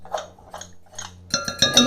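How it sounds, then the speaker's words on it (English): A metal spoon scrapes the sides of a pot of cream of fresh tomato soup, making three soft separate scrapes followed by a denser run of clinking and scraping, close and moderately loud with no talk. "I'm going to use a spoon. I just want to scrape the sides, get that goodness."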